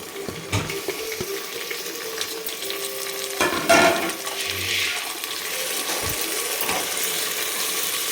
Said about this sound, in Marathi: आणि लगेच आपण टोमॅटो पण टाकून देणार आहेत